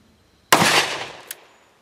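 A single .410 shotshell fired from a Smith & Wesson Governor revolver at close range, one sharp loud blast with a short decaying tail and a small trailing click.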